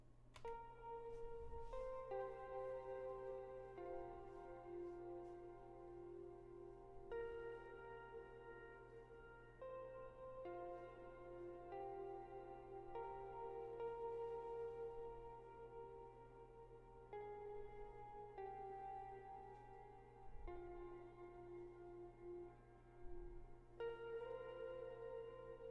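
A slow, chill lofi guitar melody drenched in Guitar Rig's Liquid Ambience preset, with sustained, washy picked notes ringing over a low steady hum, heard alone.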